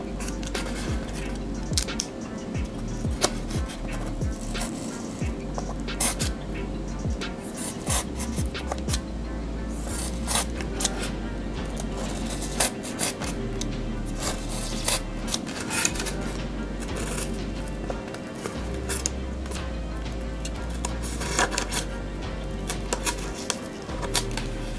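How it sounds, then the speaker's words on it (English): A blade cuts deep into material for a Freddy Krueger furnace diorama build, making close, steady scraping and rasping strokes over a low background hum for the whole stretch. "So I'm gonna cut this deep."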